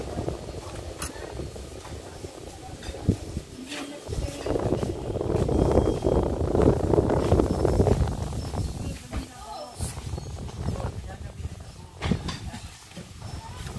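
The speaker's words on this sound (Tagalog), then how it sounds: "Ang hangin." Steady wind buffets and roars across the microphone, swelling in the middle, with faint voices talking underneath, outdoors in Tagaytay City, Philippines.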